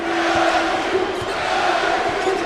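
A packed arena crowd at an LSU Tigers home basketball game against Louisiana roars and cheers steadily, a loud, dense wall of voices sustained without a break.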